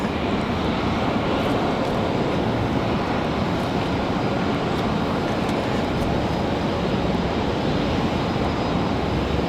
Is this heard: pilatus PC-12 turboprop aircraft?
yes